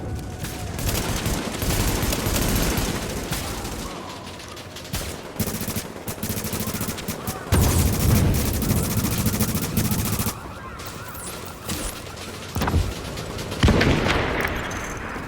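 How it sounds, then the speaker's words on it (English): A sustained firefight in the video game Tom Clancy's The Division: dense, continuous automatic gunfire with overlapping bursts and heavy booms, loud and unbroken for the whole stretch, with no speech. "Here we go, here the firefight goes."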